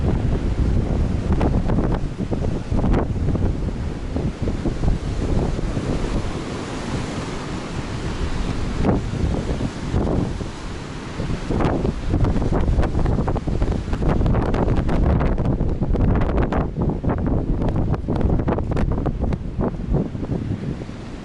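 Wild stormy wind whistles and buffets straight into the camera microphone on a beach at Olenevka. Heavy surf roars underneath in a loud, continuous rumble with gusty surges throughout.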